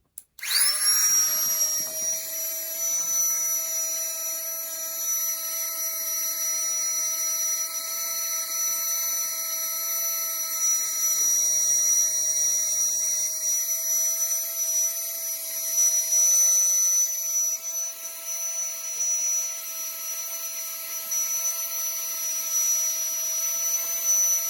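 A Flextailgear Tiny Pump 2 electric mini air pump deflates something, starting with a click and then giving a continuous high-pitched whine close to the mic that runs steadily for about twenty-four seconds.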